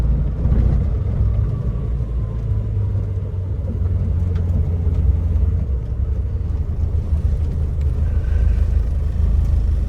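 A restored 1968 Morris Traveller drives along with a steady low engine rumble and road noise, heard from inside the car at moderate, even loudness.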